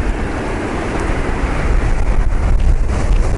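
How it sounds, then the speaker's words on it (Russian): Strong wind roars and buffets the microphone in a loud, continuous rumble that swells slightly toward the end. "Оп, смотри, сегодня какой ветер дует сильный."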